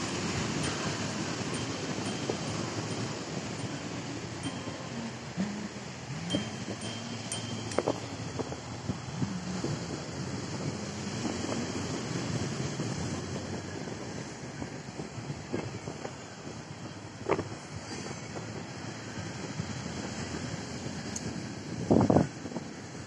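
Wind buffets the microphone along the shore of Padangkala beach while riding a bicycle, with a steady broadband rush of gusts and surf continuing throughout and a few brief knocks and bumps.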